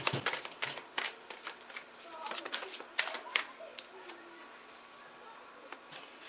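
Tarot cards are shuffled and riffled by hand, giving a string of crisp, close papery snaps and flutters in uneven bursts that thin out toward the end, with quiet background.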